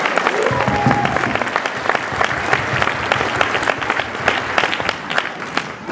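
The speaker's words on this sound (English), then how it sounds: "Round of applause, please." A crowd at a 2013 high school graduation ceremony breaks into sustained applause, dense and steady clapping that fills the room for several seconds with faint voices underneath.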